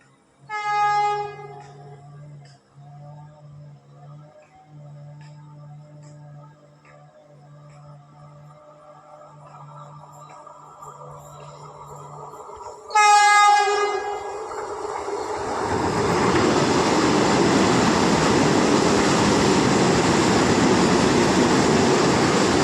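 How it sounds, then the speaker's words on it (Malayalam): A Vande Bharat express sounds a loud, sustained multi-tone horn while approaching Chowara railway station, then blasts the horn again as it rushes through at speed, followed by a heavy, continuous roar of wheels and carriages close by. "അപ്പോൾ ആ വന്ദേ ഭാരത് തിരിച്ച് ബാംഗ്ലൂരിൽ നിന്ന് എറണാകുളത്തോട്ട് വരുന്നുണ്ട് ഇന്ന്."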